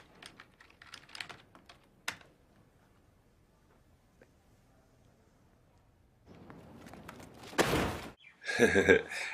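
Fingers tap on a computer keyboard in a short burst of quick, light clicks, followed by a quiet stretch and then louder thumping and rustling noises at the end.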